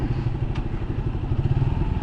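A modified Suzuki Gixxer 150 motorcycle rides past with a loud, close engine burble, its low exhaust throbbing in a rapid pulsing rhythm with occasional clattery bumps and no voices.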